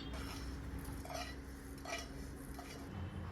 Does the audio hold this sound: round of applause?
no